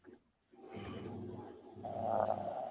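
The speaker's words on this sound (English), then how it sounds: "Jason, are you snoring? No. I think it's my dog" A dog snoring nearby indoors, a low rumbling breath followed by a louder, raspy snore with a nasal whistle, audible across a live chat setting without overlapping speech.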